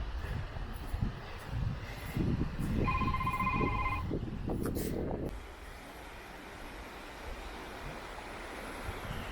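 A phone rings briefly with a short electronic tone beside a beach at Blackpool North Shore, heard under wind and surf noise while a person talks nearby.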